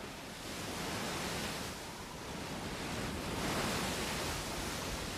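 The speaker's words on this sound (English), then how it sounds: "Inside the harbor, huge thrashing waves attack the mainland." Huge storm waves thrash and batter inside Pusan Harbor, a continuous loud roar of breaking water and surf with no break and no voices.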